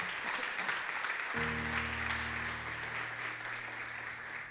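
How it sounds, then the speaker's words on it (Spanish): Church congregation applauding, a faint steady rustle of clapping hands at low level, joined partway through by a sustained low organ or keyboard chord that holds to the end. "¿No le darías un aplauso al Señor por eso?"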